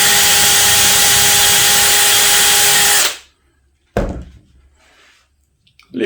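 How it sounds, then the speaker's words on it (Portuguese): A drill bores a dowel hole in wood using a jig, a loud, steady whirring for about three seconds that then cuts off, followed by a sharp knock and quieter handling clatter. "E aí eu venho com a broca e faço o meu furo necessário."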